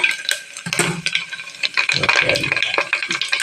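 Mustard seeds and cumin sizzle and pop in hot oil, the tempering for toor dal. The crackling is close and continuous, with someone talking over it.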